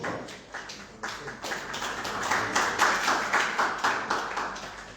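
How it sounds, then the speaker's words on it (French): A church gathering applauds, scattered claps building into a rhythmic, fairly steady clapping that grows somewhat louder, heard at moderate distance with no speech on top. "Sous vos acclamations, s'il vous plaît"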